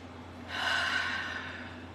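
A single deep breath during a guided early-morning breathing session, close and soft: a quiet start, then an audible airy inhale that swells and slowly trails off over a low steady hum.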